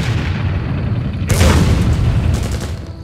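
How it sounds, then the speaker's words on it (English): Artillery fire booms in the World War I Somme battle of the real-time strategy game Empire Earth. A loud blast bursts out over a continuous low rumble of battle, with further heavy thuds following it. "You with your damn artillery"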